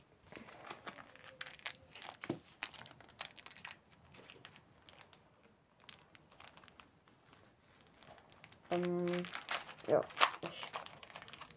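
Plastic wrapper of a 2005-2006 season Czech extraliga hockey trading card pack crinkles and tears in short bursts while someone talks over it, with a louder rustling stretch near the end.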